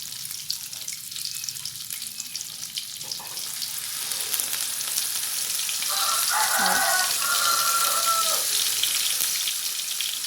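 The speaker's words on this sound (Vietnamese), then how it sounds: "Rồi bây giờ mình đã xào lại cái phần này nó hơi săn lại ha." Vegetarian pork roll stir-frying in a pan gives a steady, close sizzle that builds a little louder midway, with faint scraping from stirring and no voices.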